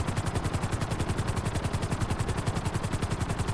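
A video game helicopter's rotor chops in a fast, steady rhythmic thump, loud and close, continuing without pause and with no voices.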